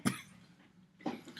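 Two short, quiet coughs about a second apart, close to the microphone.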